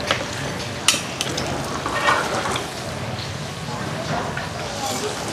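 Beef sizzles and spatters in a hot pan for black-pepper-sauce banh mi, a steady broadband frying hiss with a few sharp pops and stirring scrapes, while voices talk in the background.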